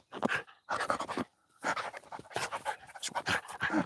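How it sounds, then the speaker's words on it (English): A puppy doing zoomies pants hard and rapidly in close bursts, with brief gaps between runs of quick breathy huffs, loud and near with no talk. "Puppy is doing a zoomy"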